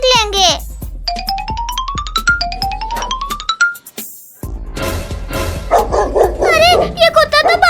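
Cartoon dog barks in a quick repeated series of yips and woofs with cartoon music, then children's voices talk excitedly over the scene.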